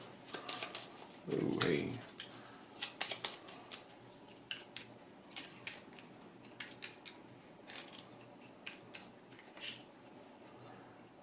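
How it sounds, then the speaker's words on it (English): A deck of board game cards being shuffled and handled on a table, giving a series of short crisp riffles and soft slaps spread across the stretch, with a brief exclamation from a voice early on. "we're going to shuffle all these back together"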